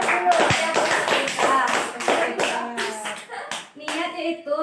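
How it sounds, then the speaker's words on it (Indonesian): Students in a school class give a round of applause, a dense burst of close hand claps that thins into scattered claps, with children's voices in the mix. "Beri aplaus dulu."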